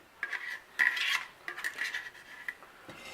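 Spatula scraping out the inside of a small aluminum stock pot, a run of short metallic scrapes and rubs in quick uneven strokes, close and fairly quiet, with no talking.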